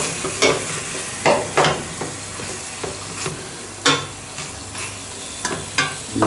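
An egg frying in a pan alongside bacon and shaggy parasol mushrooms, a steady close sizzle broken by several sharp crackles and spatters.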